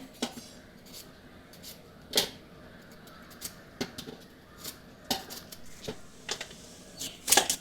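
A knife cutting bitter gourd lengthwise on a board, a series of sharp, irregular close taps and clicks over a quiet background.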